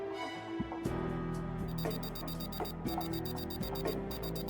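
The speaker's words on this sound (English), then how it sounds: "What's beeping?" Repeated short electronic beeps in Final Fantasy VII Ever Crisis, a steady series of quick high tones sounding over a game music background.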